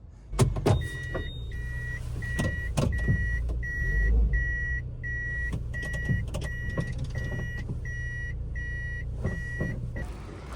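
A Toyota Will Vi car drives along, its engine and road noise steady throughout, with a repeating electronic chime beeping at a regular pace and a few sharp knocks and clunks near the start.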